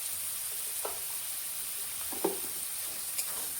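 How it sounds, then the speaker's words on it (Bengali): Chicken biryani masala with carrots and peas sizzles steadily in a pan while a spoon scrapes through it in a few brief strokes, close and moderately quiet, with no voices. "এখন এগুলো নাড়াই নিব ভালো করে।"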